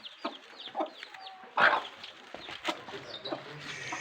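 Hens cluck in short, scattered calls near a flock with chicks, moderately close amid faint yard rustling.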